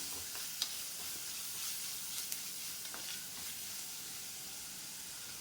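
Crushed garlic and ginger fry in a pan for a Kerala prawn roast, giving a steady, moderately faint sizzle with a few small pops and crackles and no voices.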